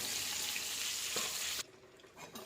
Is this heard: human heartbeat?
no